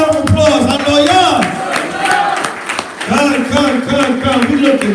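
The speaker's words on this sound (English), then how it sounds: "give yourself a round of applause" A congregation at a religious gathering claps and cheers, with loud voices shouting over it. The crowd noise rises, dips briefly in the middle, then surges again, staying prominent throughout.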